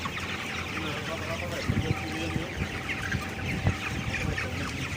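Chickens clucking in a holding area, birds noted as coughing slightly; steady low clucks and scattered calls under a constant background din, with some voices mixed in.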